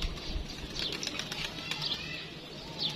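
Pigeons taking off and flying, their wings flapping in quick bursts at a moderate distance, with a few faint chirps and a steady low background hum.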